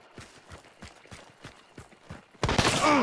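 Gunfire in the Hunt video game during a St Patrick's Day session, a series of sharp shots spaced roughly every third of a second, then a loud burst of noise closing the moment.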